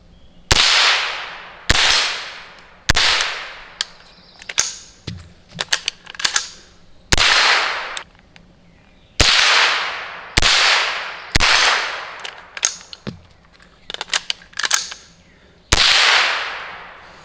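A rifle fitted with a .22 conversion kit fires a string of about ten loud, sharp shots at uneven intervals. Each crack rings out briefly, and fainter clicks and handling noises fall between the shots.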